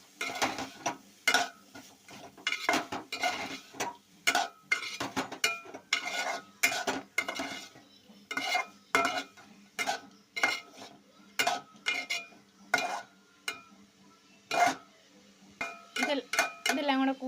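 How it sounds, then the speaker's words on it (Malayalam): A utensil scrapes and clinks repeatedly against a pan as jackfruit seeds and spinach are stirred for thoran, sharp irregular strokes close up, with no talk. "നന്നായിട്ടൊന്ന് ഇളക്കി കൊടുക്കാം"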